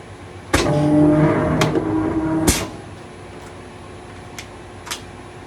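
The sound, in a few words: die cutting press cutting Sintra against orange pads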